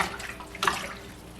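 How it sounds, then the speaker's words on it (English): Home-grown spinach washed by hand in a basin of water, with soft sloshing and dripping and one clearer splash near the middle, close and alone. "I will soak it and wash it very well"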